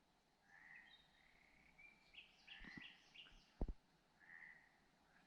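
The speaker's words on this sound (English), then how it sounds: "Can you hear the birds singing?" Birds sing in short, scattered chirps and trills at around 11:30 at night under a moonlit sky, alongside a lone croaking frog. The calls are faint and distant against low background hiss, with a couple of brief closer knocks.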